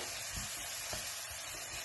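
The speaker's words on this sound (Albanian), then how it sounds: "hedhim mishin e grirë, pjesë, edhe I skuqim bashk me qepën" Minced meat fries with onion and leeks in a pan, a dense steady sizzle with occasional soft stirring scrapes and thumps, close and continuous with no talking.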